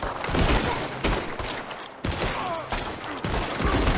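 Rapid gunfire from Red Dead Online, with dense overlapping shots in a loud, continuous fusillade of close cracks and booms.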